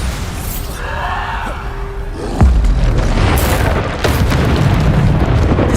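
Bombarda spell blasts in the Hogwarts Legacy video game: a loud booming explosion lands mid-clip over a dense roar of combat, followed by a second heavy burst, amid continuous rumbling battle noise.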